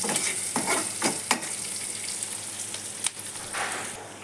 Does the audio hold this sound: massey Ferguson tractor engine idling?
no